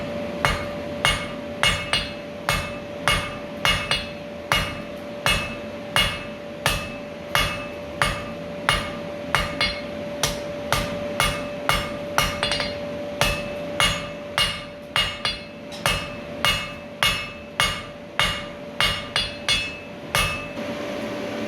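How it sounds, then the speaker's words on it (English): Repeated blacksmith hammer blows ring out on hot steel while a square taper is forged, dozens of sharp, loud metallic strikes in a steady, slightly uneven rhythm over a continuous high ring, with no talking. "I'm going to focus my hammer blows just on that transition point now"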